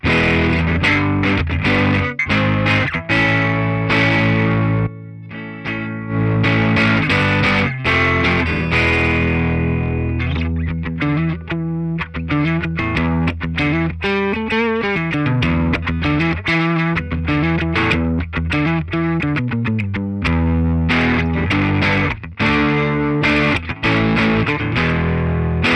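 Electric guitar through a loud Jensen speaker, heavily distorted with effects, chugging rhythm chords and sliding riffs played continuously, loud and full without any voices.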